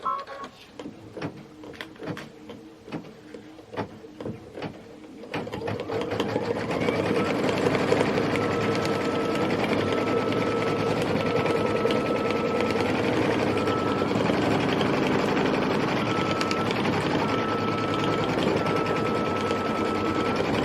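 A sewing machine stitches a bird wing appliqué, first in short stop-start bursts of needle clatter, then settling into a steady, continuous close whir.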